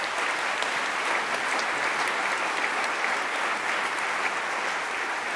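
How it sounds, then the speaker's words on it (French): Full, continuous audience applause closing a panel discussion at an economic forum, a dense even wash of many clapping hands from start to finish. "Je pense qu'on peut les applaudir."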